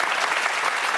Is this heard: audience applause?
yes